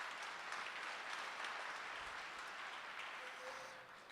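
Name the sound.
audience applause at all-hands meeting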